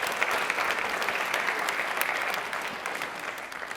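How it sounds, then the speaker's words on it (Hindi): A studio audience applauds contestant Himani on a televised quiz show, a dense, steady wash of many hands clapping together for nearly four seconds, with no talking over it. "एक बार हिमानी के लिए तालियां एक बार जोरदार प्लीज।"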